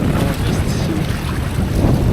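Strong wind gust roaring across the microphone while windfoiling on open water, a loud steady rushing with low buffeting and faint water wash, alone without talk.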